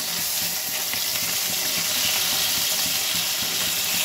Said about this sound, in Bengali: মাছটা একটু কড়া করে ভাজবে। এই মাছের প্রচুর কাঁটা থাকে, তাই একটু কড়া করে ভাজা নিতে হবে।